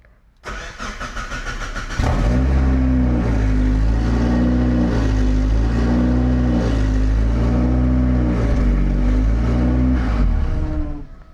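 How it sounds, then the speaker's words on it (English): A race car engine starts, then hunts in a high idle loop near 1800 rpm, its loud revs surging and falling repeatedly in a steady cycle, heard close up with no one speaking. "it's some weird idle loop that's revving really high"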